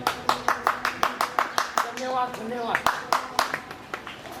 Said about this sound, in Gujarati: આટલા બધા ખેડૂતો બેઠેલા છે, એમાં એક જ વ્યક્તિએ તાળી પાડી